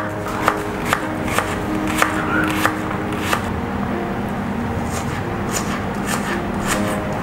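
Garlic being chopped with a knife on a cutting board, a series of sharp, close taps at a loose, uneven rhythm over a busy kitchen background with a low hum.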